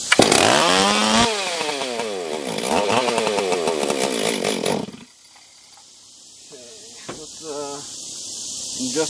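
A rebuilt Stihl 044 chainsaw is pull-started on choke and fires into a loud, close, revving two-stroke engine roar that rises and falls for several seconds before cutting out, leaving quieter sputters and faint background noise.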